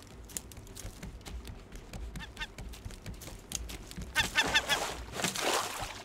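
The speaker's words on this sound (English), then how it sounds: "I hear a freaking bird." Bird calls in the video game Raft, sharp squawks and chirps that grow louder toward the end over game sounds and a low hum.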